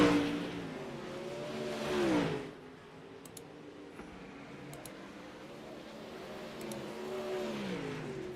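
Dirt late model race car on the final lap at Cedar Lake, its engine roaring past close by and fading, then rising again from a distance as another car approaches, with faint clicks between.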